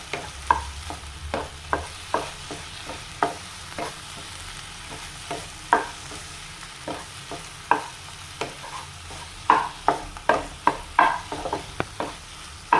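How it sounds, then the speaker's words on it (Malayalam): Eggs and spinach fry in a pan, a soft sizzle running under repeated sharp scrapes and taps of a utensil stirring and mixing, close and fairly loud with no talking. "നമ്മൾ മൂന്ന് മുട്ട പൊരിച്ചെടുത്ത് നമ്മൾ കൂടി മിക്സ് ചെയ്യാം"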